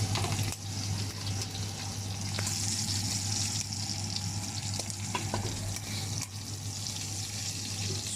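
Smoked pork boucané from Réunion cooks in a cooker with a steady, soft sizzle, interrupted by occasional clicks and brief stirring scrapes, with no voices.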